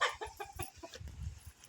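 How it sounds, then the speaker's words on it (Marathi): Chickens cluck close by as they rest in the shade on a village farm during hot sun, a quick run of short, overlapping clucks with no talk. "आमच्या कोंबड्या बघा सावलीला बसल्यात चांगल्या उन्हाच्या"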